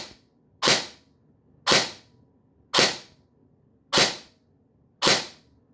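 A Standard Solink blaster with a brushless motor fires five single shots on semi-auto, each a sharp, loud crack followed by a quick decay, evenly spaced about one second apart with a faint motor hum between them.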